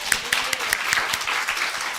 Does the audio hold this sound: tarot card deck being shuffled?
no